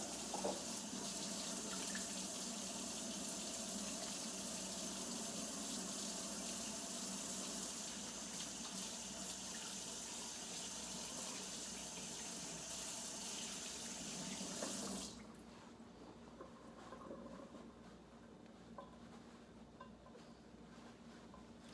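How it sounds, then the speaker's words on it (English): A kitchen tap runs steadily into a sink for about fifteen seconds while hands are washed, a loud, even gush of water that suddenly stops, leaving faint room noise with no talking. "Go ahead and put this stuff in the sink. And I'm going to go ahead and wash my hands."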